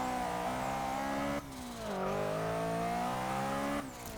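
A 1993 Renault Clio Williams in the racing game Forza 6 drives with a steady engine drone that shifts pitch through gear changes and speed changes, loud and continuous for about four seconds with no talk.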